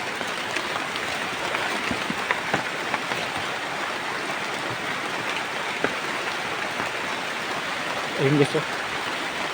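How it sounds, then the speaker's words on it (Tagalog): Heavy rain pours steadily outdoors, a dense continuous hiss of drops hitting surfaces from close by, with a brief spoken remark near the end. "Kasi sobrang lakas ng ulan."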